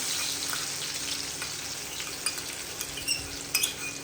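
Garlic frying in oil in a kadhai for chivda crackles with a bright, constant sizzle, quiet and close, with a few soft clinks of a spoon near the end.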